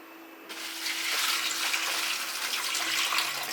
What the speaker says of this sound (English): And we'll pour some water in.